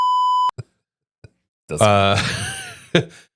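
A single steady electronic bleep tone lasts about half a second at the start, followed by brief clicks and then a stretch of speech.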